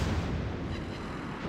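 A shell strikes the battleship Hermes in a naval combat video game and sets it ablaze, giving a loud, dense, rumbling boom that holds steady through the whole moment with no voices.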